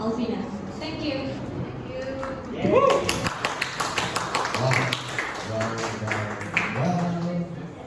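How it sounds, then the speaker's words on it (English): Seminar audience applauding a presenter, with scattered claps and taps mixed with cheering voices and chatter, loud at first and then continuing unevenly under talk. "Give a round of applause once more to Sister Sefia."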